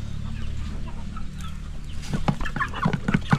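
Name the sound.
labuyo (Philippine native chicken) clucking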